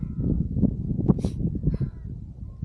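Birds over water in Armenia give low, harsh crow-like caws in a quick irregular run, fairly near and moderately loud against a quiet background.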